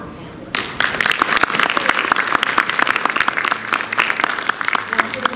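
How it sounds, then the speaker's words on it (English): Applause for the panelists at a 2017 marina boat club industry session breaks out after a brief quiet lead-in, dense clapping from a sizable audience sustained steadily and loudly to the end. "would you help me with a round of applause for our"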